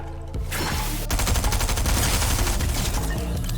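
Gunfire in the Fortnite Chapter 3 video game, a dense, loud burst of rapid shots and booming blasts rattling nonstop after a brief quieter lead-in.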